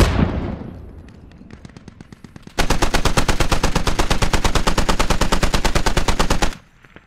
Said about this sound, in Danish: Så længe de skyder på os, ikke?